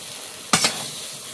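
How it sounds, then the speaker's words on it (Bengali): New potatoes sizzle in a pan as a spatula stirs them, a sharp scrape and clatter followed by a second softer stroke over a steady background of frying hiss. "আলুটা এখন ভালো করে লাল লাল কষাতে হবে"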